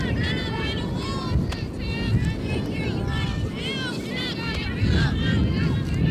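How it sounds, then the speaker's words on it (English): Wind buffets a microphone at an outdoor junior varsity baseball game, producing continuous low rumble and gusty roar under steady play-by-play commentary. "Very windy day out."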